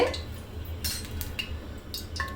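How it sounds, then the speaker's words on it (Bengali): A cooking pot being coated with mustard oil for chicken biryani, with a few light metallic clinks and scrapes of a utensil against the pot, close and fairly quiet, with no talking. "আমি এখন হাঁড়িটাকে একটু ভালো মতন তেলটা দিয়েই করে নিব"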